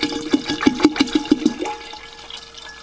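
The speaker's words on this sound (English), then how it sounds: "I'll add the water now for the third and final washing." Hot water is poured into soil being washed for bonsai, giving a series of rhythmic glugging splashes close by that fade into quieter trickling, with no voices.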